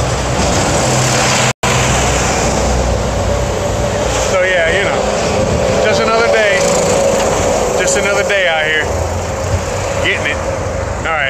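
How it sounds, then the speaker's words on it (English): Buses and traffic on a city road in Merida, Mexico, passing very close with a loud, constant roar and engine rumble, plus bursts of wind buffeting, while a person talks throughout. "I'm trying not to get run over by the buses coming my way."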